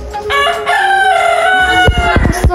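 A rooster crows loudly and close, one long, strained call that rises and holds before breaking off, followed by a few short harsh notes.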